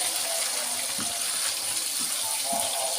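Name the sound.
pouring boiling water while cooking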